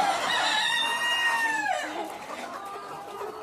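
A Peruvidai chicken crows nearby in a long rising and falling call, followed by softer clucking from the flock and chicks in a farmyard.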